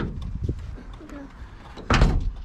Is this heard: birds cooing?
no